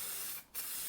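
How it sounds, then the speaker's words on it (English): Spray paint hisses from an aerosol can fitted with a swapped cone-pattern nozzle, painting a Telecaster guitar body; a steady, close, broadband spray that cuts out briefly near the middle and then resumes. "I have tried using a different nozzle off a different can, which gives a cone kind of pattern to the spray"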